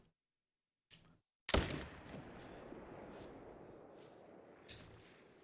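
A single sharp, loud Arzina 300 rifle shot in TheHunter Call of the Wild cracks after a faint click, then rolls into a long echoing rumble that fades slowly over several seconds.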